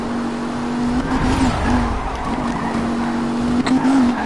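Game car drifting in Need for Speed Rivals, a steady loud engine tone rising and dipping in pitch with tire-squeal-like noise, continuous through the whole stretch with no talking.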